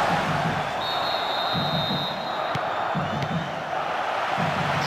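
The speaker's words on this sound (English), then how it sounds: "The capacity crowd getting behind their team." A capacity stadium crowd roars steadily in the football video game Pro Evolution Soccer 2011 on the 3DS, a dense, continuous wash of cheering with faint whistles and chants underneath.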